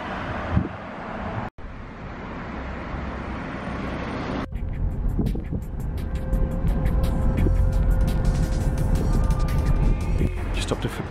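A car drives along a road in Muscat, Oman, toward Muttrah Souq, with steady engine and road rumble mixed with heavy wind buffeting on the microphone, growing fuller after a brief dropout.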